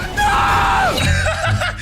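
A person playing a video game lets out a loud, sustained scream of fright that slides sharply downward in pitch, then trails off into breathy, laugh-like vocal noises.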